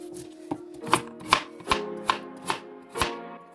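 Knife cutting potatoes, carrots and onions into large chunks on a board for a crockpot chicken curry, with about seven firm, evenly spaced chops ringing out close and clear, with no talking.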